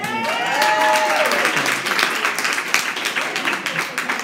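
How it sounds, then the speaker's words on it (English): An audience at a live poetry event claps in sustained applause, loud at first and gradually thinning into scattered claps, with some vocal cheers mixed in. "Guys, let's give a proper round of applause."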